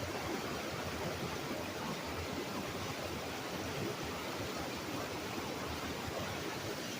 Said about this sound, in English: You probably can't hear me because the waterfall is so loud.